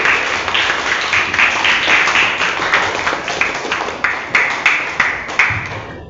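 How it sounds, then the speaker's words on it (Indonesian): An audience in a classroom-style session applauds one presenting group. The clapping is loud and close, with a rhythmic, pulsing quality of some unison claps, and it tapers off near the end. "Terima kasih sudah berikan tepuk tangan untuk kelompok ini."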